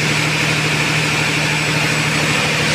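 A ship's engine running, a loud, steady, unbroken mechanical drone with a deep rumble and broad hiss filling the whole stretch, close by and with no voices.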